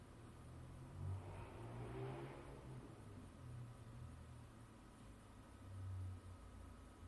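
Faint, steady car engine drone in a video game as the car accelerates, with a whooshing rise in pitch and background hiss, no voices.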